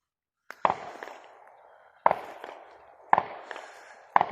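Gunshots from neighbors outdoors on a frigid day: four sharp, distant reports spaced about a second apart, each trailing a long rumbling echo across open ground.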